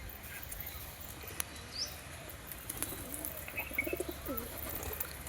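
Soft pigeon coos and a few chirps sound over a quiet outdoor background, with brief wing flaps and clicks scattered throughout.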